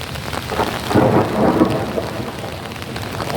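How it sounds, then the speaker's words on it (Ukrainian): A low rumble of thunder rolls through steady, heavy rain, with a broad wash of rainfall noise from start to finish. "Так, да, це грім у нас, грім, грім,"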